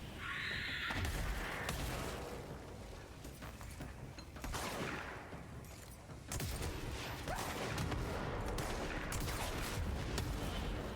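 Gunfire from a weapon in the video game Control: sustained loud, dense bursts of shots and impacts that fill the whole stretch, briefly easing midway before resuming at full intensity.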